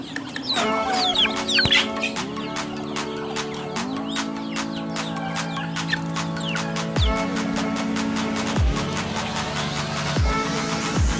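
Chickens cluck busily at feeding time on a rural farm with goats nearby. The clucking is dense, overlapping and close, layered with sharp pecking ticks and a few short calls, and there is no talking.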